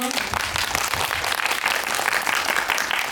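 A film screening audience at a special guest-visit event gives sustained, even applause, with dense clapping filling the room throughout at a moderate level.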